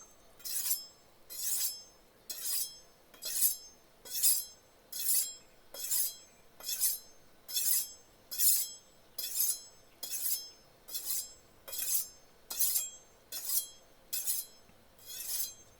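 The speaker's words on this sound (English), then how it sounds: "Both knives will receive the exact same treatment of 20 pulls on my brick." A steel knife edge is dragged across a brick in steady repeated strokes, each a hissing rasp followed by a short pause.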